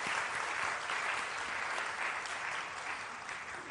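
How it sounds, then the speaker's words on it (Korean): A church congregation at a revival service applauds in blessing for the children, producing dense, even clapping that is fairly soft and distant and carries on without pause. "축복의 박수로 같이 합시다"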